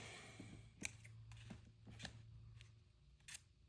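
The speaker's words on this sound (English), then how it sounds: "scissors." Several quiet, crisp snips of scissors at irregular intervals, close by, with a soft low hum underneath and no talking.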